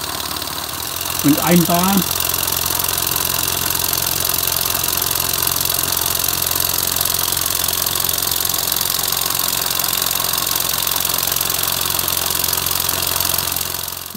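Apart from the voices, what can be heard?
two-cylinder steam engine test run at 1 bar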